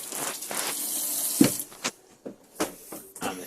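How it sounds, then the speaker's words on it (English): Water gushes from a campervan kitchen sink tap while air is purged from the system, a steady rush that then breaks into sputtering spurts and bursts as air pockets push through. "drain all the air out of the system, obviously in the kitchen sink,"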